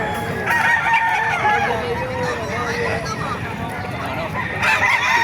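A rooster crows loudly over clucking chickens at a busy poultry market in Bocaue, Bulacan, with crowd babble and people talking throughout.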